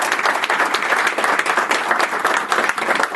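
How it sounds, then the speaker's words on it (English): Steady, dense audience applause fills a human rights recognition dinner in Schenectady County, many hands clapping close and loud with no break for the whole stretch. "If we can have another round of applause for all of their service"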